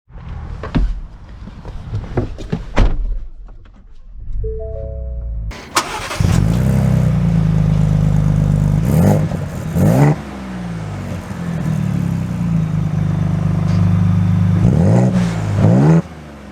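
A few clunks and a short electronic chime, then a 2023 Ford Bronco Raptor engine starts, idles and revs as the truck pulls away, close and fairly loud.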